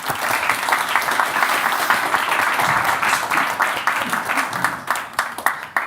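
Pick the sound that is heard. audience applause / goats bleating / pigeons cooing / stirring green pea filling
audience applause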